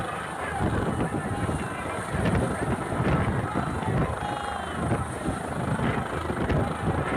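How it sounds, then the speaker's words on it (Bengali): A helicopter coming down to land on an open field at a large political rally in Amta fills the air with loud, steady rushing wind and rotor roar, a constant gusty blast with no break. "প্রচণ্ড হাওয়া দিচ্ছে, যেন মনে হচ্ছে যেন মাঠে ঝড় বইছে।"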